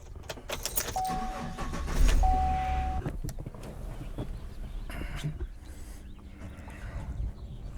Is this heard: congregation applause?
no